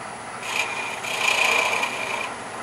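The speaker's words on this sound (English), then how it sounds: "Next on the agenda, I'm marking the center of the piece" Multi-tool spinning against a wooden piece to mark its centre on a lathe headstock handwheel project, a close whirring, rasping grind lasting about two seconds, alone without talk.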